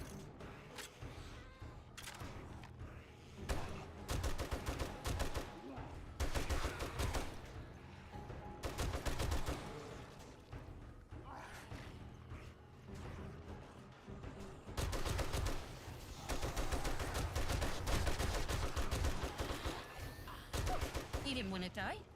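Gunfire from a gun in the survival video game 7 Days to Die, loud bursts of rapid shots in several volleys, some with a metallic clatter, mixed with game sounds and talk.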